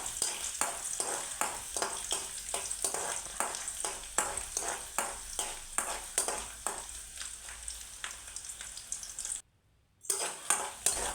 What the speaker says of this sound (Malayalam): അതിലേക്ക് നമ്മൾ വെളിച്ചെണ്ണ ഒന്ന് ചൂടായി വരുമ്പോൾ നമുക്കതിലേക്ക് വെളുത്തുള്ളിയും അതുപോലെ തന്നെ ഇഞ്ചിയും ചേർത്ത് കൊടുക്കാം.